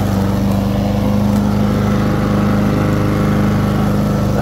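A lawn mower runs steadily over a wet lawn covered in fallen leaves, a loud, continuous close-up engine drone with a constant low hum and no pauses.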